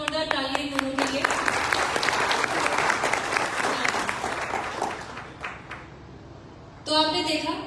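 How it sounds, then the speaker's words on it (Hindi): Loud, dense applause from an audience at a business seminar for a couple called up front, with a voice talking over it and the clapping fading out before a speaker resumes. "जोरदार तालियां दोनों के लिए।"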